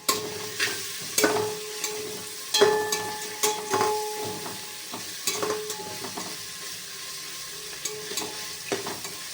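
Ginger garlic paste sizzles and fries in a pan for biryani while a spoon stirs and scrapes in repeated sharp strokes over a continuous hiss, with no voices.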